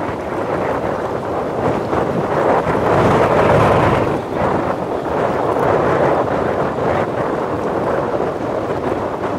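Strong wind buffets the microphone aboard a small river barge running downstream, a loud, continuous roaring rumble that swells in gusts and briefly drops, drowning out any other sound.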